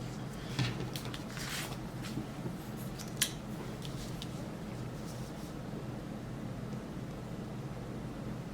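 Scissors trimming paper for a planner dashboard layout, faint crisp snipping cuts clustered early and a single sharper snip later, close but quiet over a soft room hiss.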